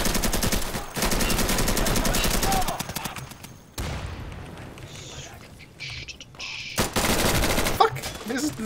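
Rapid bursts of gunfire in the video game Insurgency ring out loud and near, dense volleys broken by a quieter stretch of faint ambient birdlike chirps before another burst.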